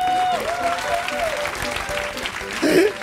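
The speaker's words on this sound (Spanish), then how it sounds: "Fuerte el aplauso para Marc" Live comedy show audience breaks into applause as a conference speaker is introduced, a broad steady clatter of hands with voices carrying over it.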